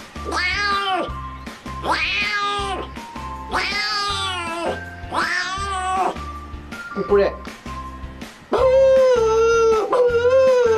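A person imitates a cat, giving a run of drawn-out, wavering meows one after another, loud and close, with a stronger yowl near the end.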